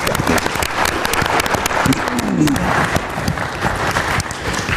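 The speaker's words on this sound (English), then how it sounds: "Should we clap now?" Loud, sustained applause from an audience, dense clapping filling the whole stretch with some crowd noise mixed in.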